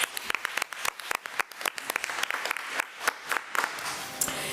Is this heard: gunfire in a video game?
no